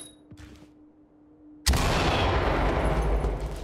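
A flashbang grenade goes off in the Ready Or Not tactical shooter, a sudden loud blast after a quiet moment, followed by a sustained roaring ring and rumble that fills the rest of the moment.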